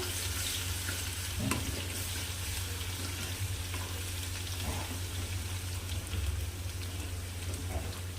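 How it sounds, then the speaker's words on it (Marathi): Coarsely pounded garlic sizzles in hot oil in a pan, a steady crackling fry with occasional scraping stirs of a spoon, close and continuous, with a faint voice now and then. "आता लसण ॲड करते छान असं मिक्स करायचं"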